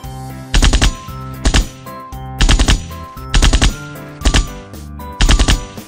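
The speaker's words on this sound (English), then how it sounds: "Army rifles." A toy army rifle fires six loud, evenly spaced bursts of rapid electronic gunfire, each about a quarter second long with short gaps between, close up and with no talking.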